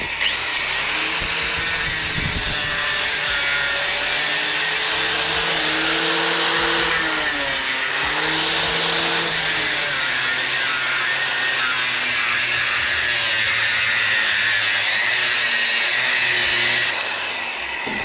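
A loud, continuous power tool whine grinding through material, with the motor pitch dipping briefly under load before steadying, close by and uninterrupted.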